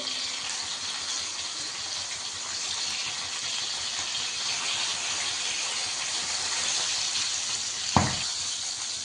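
Green chillies frying in a pan for a spicy Khandeshi green chilli and garlic thecha give a steady, loud, continuous sizzle with no talk, broken only by a single short clank near the end.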